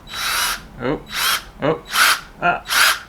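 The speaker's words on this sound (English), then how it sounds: "I could use a drill. Would a drill work? I'm going to try it." A power drill whirs in short repeated bursts, roughly four pulses with pauses between, close and fairly loud, the pitch dipping as it bites.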